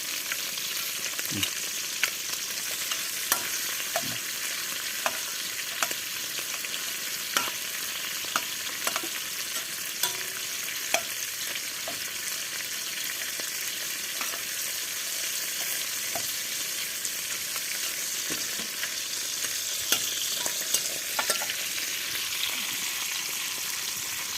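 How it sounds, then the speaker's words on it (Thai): Fish being fried over low heat for a crab-and-fish meal, with a steady close sizzle and scattered crackles and pops running throughout, no talking. "ทอด ไฟอ่อน ๆ ครับจะหอม ๆ ครับ"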